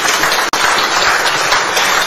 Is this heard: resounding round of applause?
yes